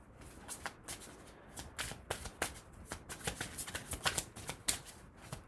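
Slippery tarot cards being shuffled by hand, a close run of quick riffling flutters and soft slaps that come in uneven bursts and grow busier toward the end, with no voices.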